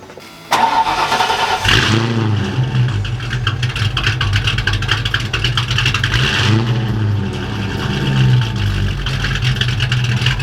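A Ford Mustang Foxbody engine cranks briefly, catches and starts loudly up close, then revs and settles into a rough idle before surging again.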